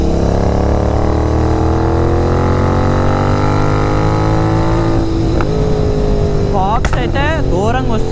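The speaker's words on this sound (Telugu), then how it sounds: "ఒక్కసారి బైక్ అయితే కొంచెం పుల్లిచ్చి చూద్దాం" A GT 650 motorcycle with a full-system exhaust and performance tune, engine note climbing steadily as it is pulled, loud and close, then sharp rev blips near the end.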